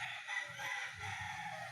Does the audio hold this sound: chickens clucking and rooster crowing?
yes